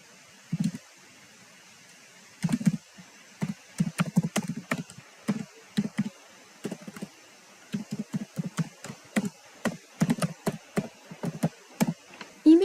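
Someone types an email address on a computer keyboard, quick irregular bursts of light key taps with short pauses between, close and fairly quiet.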